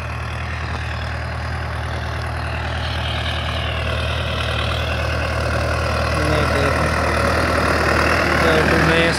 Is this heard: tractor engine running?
yes